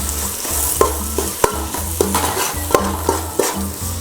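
Rajahmundry masala fries with tomatoes in a hot pan as a spoon stirs steadily, a loud close sizzle punctuated by rhythmic scraping strokes and metallic taps roughly every half second.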